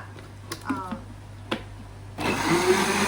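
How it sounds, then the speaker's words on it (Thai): An electric blender blending papaya starts with a few light taps and clicks, with a brief voice in between, then kicks into a loud, steady whirring roar for the final second. "ปั่นมะละกด แม่แม่บ้านบ้านจะใช้เอ่าเป็นเครื่องปั่นนะคะ"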